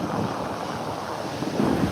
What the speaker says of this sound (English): Yeah, that's a nice ocean.